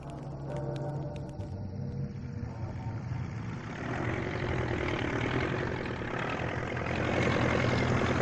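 A tractor engine idling outdoors in a village, a steady low rumbling drone that holds level throughout and swells slightly toward the end, with no talk.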